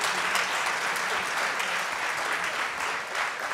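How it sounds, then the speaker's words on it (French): A seminar audience applauds at the end of a talk on construction acceptance and building insurance, a dense, lively round of clapping that carries evenly from start to finish with no voices. "Non, on peut les applaudir."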